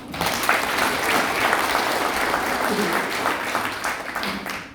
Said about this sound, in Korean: 김자군에게 많 박수 보내주시오